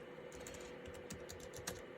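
Fingers type on the keyboard of a DEC Digital HiNote VP TS30H laptop, producing quiet, close key clicks in an irregular run over a low steady hum, with no talking.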